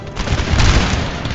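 Artillery barrage firing in the Napoleon: Total War game, a loud, dense rumble of overlapping cannon booms that swells and holds steady across the moment.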